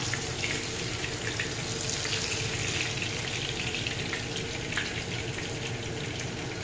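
Oil sizzles and crackles steadily as fish fries, a continuous hissing with occasional sharper pops, close by and unaccompanied by voices.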